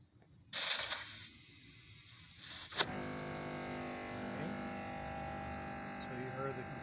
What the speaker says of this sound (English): so you heard the compressor kick on.